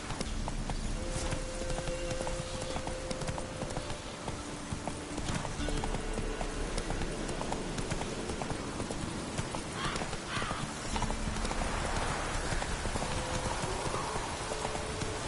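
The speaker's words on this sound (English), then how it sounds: "Whoa there, Roach." Horse hooves galloping in The Witcher 3, a steady rapid clip-clop running throughout at close range, with occasional whinnies and other game sounds layered over it.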